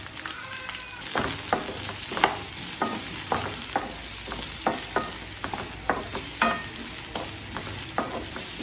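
Three medium onions fry in oil in a kadai, with a constant sizzle broken by regular sharp scrapes and clinks of a spoon stirring, close and fairly loud, with no voices.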